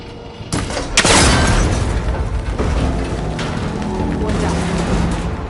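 A video game gunshot strikes a connector holding cables together, giving one loud boom that rings out into a rumbling, mechanical crash and a lingering low roar.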